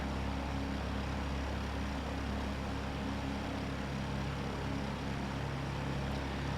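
Single-engine piston Lancair Legacy in cruise flight, a steady unbroken propeller and engine drone heard from inside the cabin, low and constant with a droning hum and no talk.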